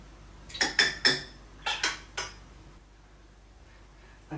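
Spoon scraping and tapping a rhubarb-strawberry quark mixture into a container, about six sharp clinks in two quick clusters, close and clear, followed by a quiet room.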